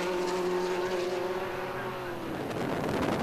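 Tuscan Challenge race cars take a corner, a loud continuous engine drone with steady harmonic tones that shift and roughen toward the end as the cars pass through.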